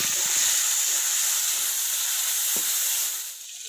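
Boiled taro leaves hitting a hot pan of oil tempered with nigella seeds, a loud steady sizzle and hiss that eases slightly near the end, with a faint clink of stirring.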